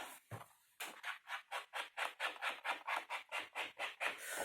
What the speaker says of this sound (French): Alors, vous ancrez les bords.